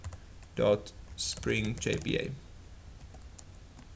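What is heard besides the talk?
typing on a computer keyboard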